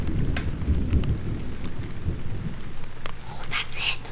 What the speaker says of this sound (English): I remember there was a storm just like this one when I was a little girl.